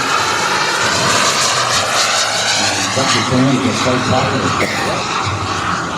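A Futura model airplane with its gear down drones steadily overhead as it sets up for landing, a continuous loud engine tone with a voice talking over it throughout.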